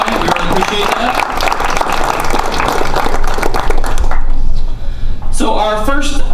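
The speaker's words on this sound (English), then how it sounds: "a big round of applause to our students and their advisor, Mr. Mel Phelps, the Lowville FFA" An audience at a Taste of Lewis County presentation gives a loud round of applause for the Lowville FFA students and their advisor. Dense, close clapping fills the first four seconds, then thins out as a voice starts speaking near the end.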